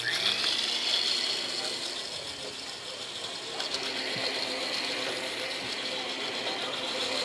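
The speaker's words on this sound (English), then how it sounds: "Turn on the blender." A blender runs steadily mixing a mango, rum and Grand Marnier colada, a continuous whirring, grinding motor noise that holds at a fairly even level throughout with no talking.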